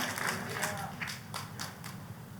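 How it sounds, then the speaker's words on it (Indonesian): A church congregation claps together in praise of God, a rhythmic burst of handclaps over a steady low hum, moderately close and fairly subdued. "Tepuk tangannya pula yang paling meriah buat Tuhan kita"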